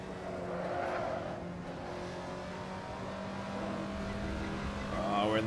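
A race car in Assetto Corsa at Laguna Seca is heard from outside, its engine droning and revving at moderate distance and rising toward the end, with someone talking over it.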